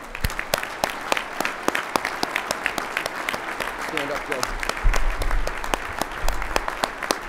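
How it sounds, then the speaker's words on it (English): At a pilots' union board of directors meeting, a room applauds pilots with sustained, even clapping from a moderate crowd. Someone speaks briefly over it and a low thump comes partway through. "Please join me in a round of applause for these pilots"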